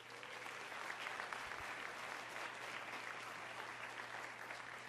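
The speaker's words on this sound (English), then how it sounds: "Give yourselves a round of applause." Roughly 450 people at a nursing excellence awards night applaud together, producing an even, continuous wash of clapping heard from a distance at low volume for several seconds.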